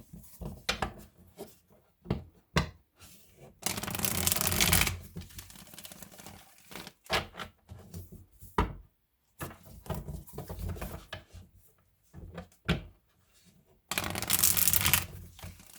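Crisp riffling of tarot cards being shuffled, in several bursts with short pauses between, close and fairly loud, with softer taps and handling noises in between.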